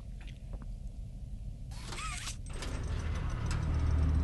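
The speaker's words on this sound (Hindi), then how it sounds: "एक दरवाजा तो खोला," A door mechanism grinds and creaks open in the horror video game Poppy Playtime Chapter 1, a mechanical churning with a sweeping squeal midway, over a low rumbling ambience that grows louder.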